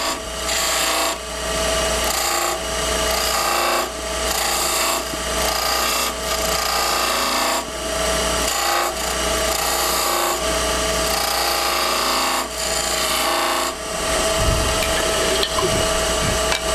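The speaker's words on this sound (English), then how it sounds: "Then I would take a skew with the toe and I'd cut the grooves in the bottom." Wood lathe turning beads, with a skew chisel's toe cutting grooves: a continuous spinning hum overlaid with repeated rasping scrapes in short bursts, close and loud, no talking.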